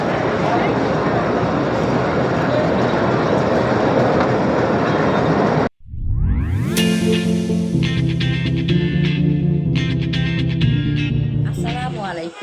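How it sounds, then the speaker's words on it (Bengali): A train on the Narayanganj–Motijheel line in Bangladesh pulls into a station: a steady loud rumble gives way after a short pause to squealing wheels, clattering cars and a blaring horn, close by. "আসতেছে ট্রেন।"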